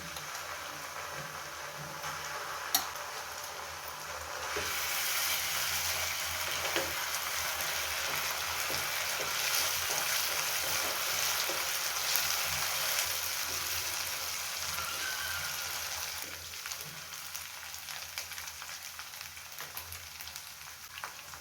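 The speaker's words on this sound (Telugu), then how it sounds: "బ్రౌన్ కలర్ రావాలి ఉల్లిపాయ ముక్కలు కొంచెం వేగిపోయినాయి బాగానే" Onion pieces for a fish curry fry in hot oil in a pan, giving a continuous soft sizzle with occasional faint stirring scrapes throughout.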